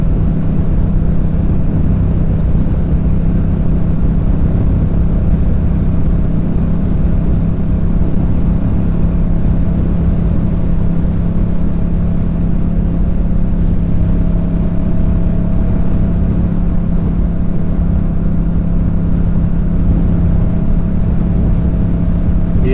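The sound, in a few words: motorbikes racing on a race track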